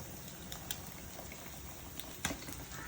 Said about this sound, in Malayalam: കറിയൊക്കെ നല്ലപോലെ തിളച്ച് വെന്ത് റെഡിയായി വന്നിട്ടുണ്ട്.